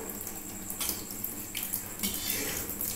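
Palm fritter batter for tal bara fries in oil, a close bubbling hiss with a few sharper spattering bursts as pieces go in, no talk.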